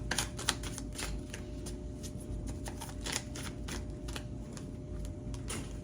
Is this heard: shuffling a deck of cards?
yes